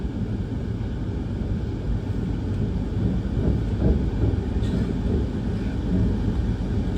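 Interior of a Vande Bharat train running between Nagpur and Kazipet, a steady low rumble and roar of wheels and motion that swells slightly midway, with no voices.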